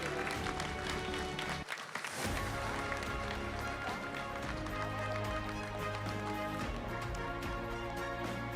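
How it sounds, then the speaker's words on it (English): Applause and crowd noise fill a conference hall, a dense wash of clapping that briefly dips then carries on loud and continuous until the end. "Shall we give them another big round of applause?"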